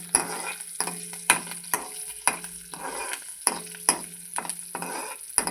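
Turmeric tempering sizzling in a pan with oil, a steady soft frying hiss broken by repeated sharp scraping stir strokes roughly every second, close and alone without talk.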